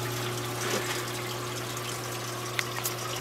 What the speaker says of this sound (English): This pump then drains out the water from the red container, and the water exits through this exit pipe and goes back to the sink